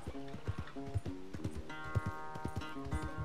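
Horse hooves gallop in Red Dead Redemption 2, a steady rhythmic clip-clop of hoofbeats close up, layered over game music with faint background sounds.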